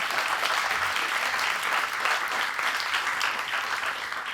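Audience applause after an introduction at a Doctors for the Environment event, dense steady clapping from a crowd for several seconds without pause.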